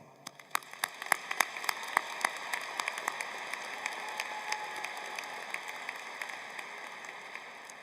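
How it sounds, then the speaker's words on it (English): A graduation ceremony audience at a 2022 undergraduate commencement gives a spread-out round of applause, with sharp individual claps standing out against a thinner, steady patter. "giving you a big round of applause"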